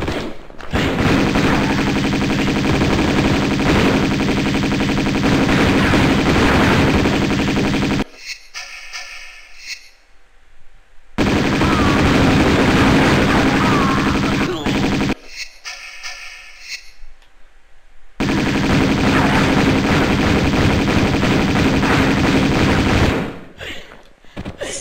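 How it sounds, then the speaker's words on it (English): Uzi fire in Tomb Raider II Remastered at Barkhang Monastery, loud sustained bursts of rapid automatic shots lasting several seconds each, separated by short quieter gaps. "Try the Uzis this time."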